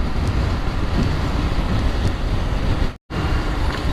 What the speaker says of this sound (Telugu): గాలి ఎక్కువ వస్తుంది ఇప్పుడు